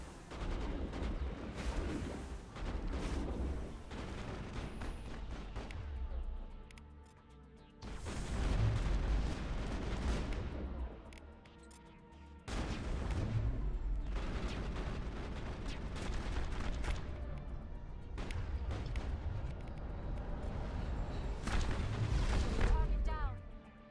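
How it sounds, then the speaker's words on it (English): Repeated bursts of assault rifle fire and booming impacts in the sci-fi shooter Mass Effect, coming in several long loud waves separated by brief lulls, with occasional speech mixed in. "that's assault rifle."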